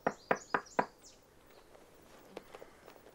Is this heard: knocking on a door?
yes